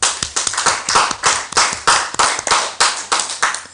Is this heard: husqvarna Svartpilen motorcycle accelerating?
no